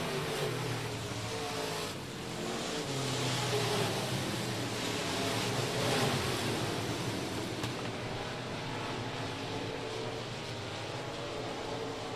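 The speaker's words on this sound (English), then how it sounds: "the A feature race of the Costin Sun Ready Mix USRA Limited Modifieds" USRA Limited Modified race cars roar around a dirt track at Rocket Raceway Park during the A feature, a dense continuous engine rumble from the pack with swelling passes, heard from a distance.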